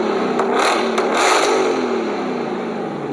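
A Ford Mustang GTD engine and exhaust revving, a few quick throttle blips rising and falling in pitch, close and loud, then settling into a steady whirring idle.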